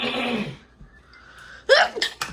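A quick sharp sneeze, followed by a short breathy catch, then a few more faint sniffs or breaths close by.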